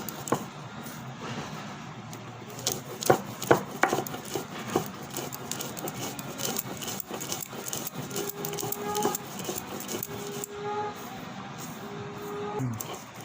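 Flax seeds are ground by hand on a stone slab pata for a Bengali tisi bhorta, giving irregular scraping and knocking strokes at close range over a steady room background.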